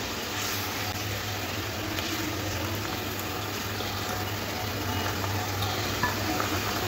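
Pieces of fried rohu fish go into a simmering spicy home-style gravy, giving a steady soft bubbling and gentle sizzle with light stirring and liquid noise, close and even throughout, with no talking.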